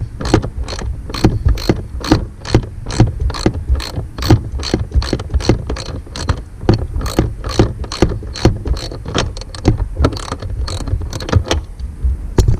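A ratchet wrench clicks in quick, steady bursts while working a stuck fastener on a Jeep Wrangler, close and loud with no talking.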